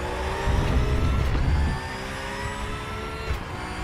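A race car engine in the RaceRoom racing game at the Hungaroring circuit, droning steadily at high revs and swelling louder for a moment before settling into a sustained mid-level whine, heard alone.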